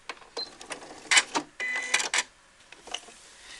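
A sewing machine runs a short back-and-forth security stitch, giving several quick bursts of mechanical whirring and clatter separated by brief pauses, close by and fairly loud, with no talk.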